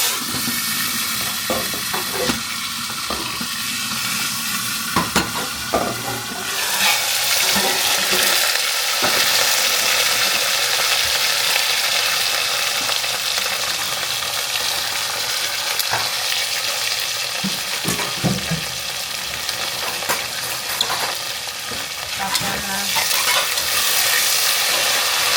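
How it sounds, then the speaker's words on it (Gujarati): Vegetables frying in oil tempered with mustard seeds, cumin and asafoetida, a loud steady sizzle with crackling spatters and occasional stirring clatter over a long stretch, no voices. "તો બકાલું બનાવવા માટે આપણે વઘાર કરવાનું ચાલુ કરી દીધું છે."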